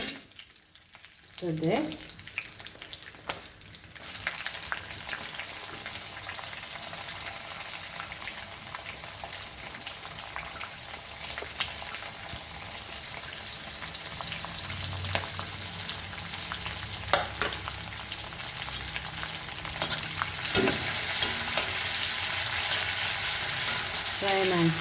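Onion frying in a pan for a Goan jackfruit seed curry hisses in a continuous, dense sizzle, with occasional stirring scrapes and a brief voice near the end.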